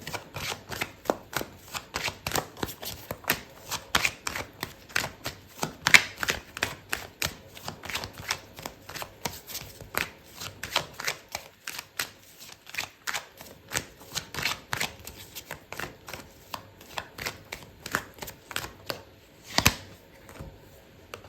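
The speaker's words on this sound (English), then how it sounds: "Okay, so I'm going to pull out another card for you." A deck of tarot cards is shuffled over and over. A long, continuous stream of quick papery riffles and taps sounds close up, with no voices.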